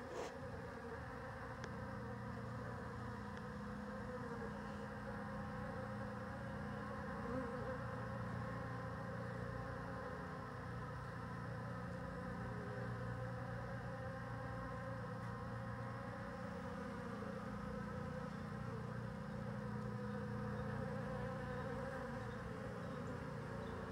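Honey bees buzz steadily around a hive as they feed on fresh dry pollen, a dense, even drone of many wings that holds near and constant with no talk.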